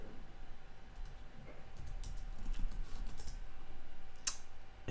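Typing on a computer keyboard in design software: a quiet, close cluster of soft key taps and clicks, with one sharper click near the end.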